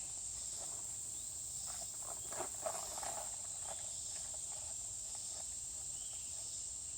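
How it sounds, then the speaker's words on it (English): A cricket chirps in a high, continuous trill in a dry hideout near a trail camera, faint and steady, with soft scattered rustling underneath. "A big old cricket sitting up in there."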